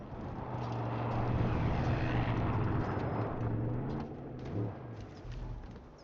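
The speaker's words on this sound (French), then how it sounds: "Un avion." An airplane flies overhead in the video game Far Cry 5, a low droning engine rumble that swells to a steady roar and then slowly recedes, with a few faint thumps near the end.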